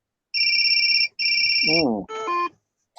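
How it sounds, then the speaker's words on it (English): Phone incoming-call alert ringing, two steady electronic tone bursts followed by a short melodic chime, clear and loud against silence. "Incoming call. Press the phone button to answer."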